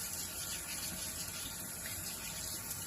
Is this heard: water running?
yes